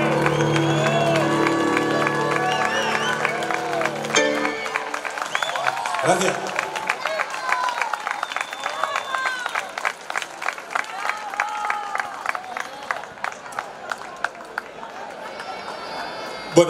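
An audience applauding at a tuna concert during an international tuna competition in Barrio de El Carmen, Murcia: dense, steady clapping and crowd noise that follows the end of the music and carries on for many seconds.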